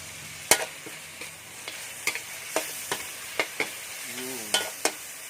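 Lemongrass stir-fried with pork ribs in a pan gives a steady sizzle broken by about a dozen sharp, irregular spatula scrapes and knocks against the pan, close and clear with no talking.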